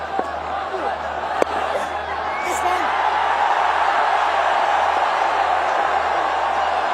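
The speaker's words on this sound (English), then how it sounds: "And a big crowd as Babar Azam goes to his 38th ODI 50" A big stadium crowd roars at an ODI cricket match as Babar Azam reaches his 38th fifty. The dense, sustained cheer swells louder after a few seconds, and a commentator talks over it.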